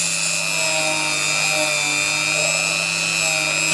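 A gem cutting tool whines steadily at a high pitch while smoothing the inside of a stone, a loud, close, continuous drone with faint scraping variation.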